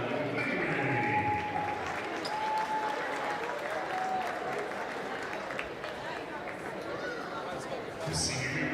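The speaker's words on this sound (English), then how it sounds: "Big round of applause for Anastasia Mckee." Crowd in a high school gym applauding during senior night at a varsity boys basketball game, steady broad clapping and cheering with a voice over the loudspeaker and chatter mixed in.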